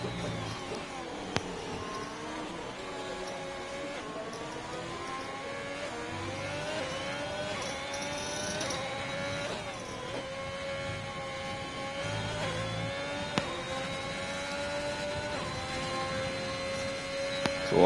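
F1 race car engine from a racing game during a qualifying lap at the Dutch GP, a steady high-pitched whine rising and falling through gear changes, moderately loud and continuous with no talk.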